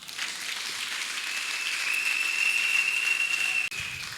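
Congregation applauding in a church, a steady broad wash of clapping sustained throughout, with a thin whistle-like tone running through the middle and a brief dropout near the end.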